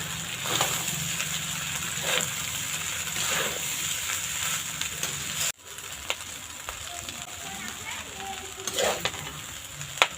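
Vegetables fry in a pan with a steady sizzle and the scrape of stirring, before rice is added for a village-style mixed fried rice; a brief dip partway through, then frying continues alone.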